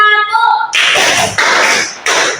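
A class performs the rhythmic 'tepuk semangat' clapping chant, loud bursts of synchronized hand claps in three blocks, preceded by a brief sung or spoken tone.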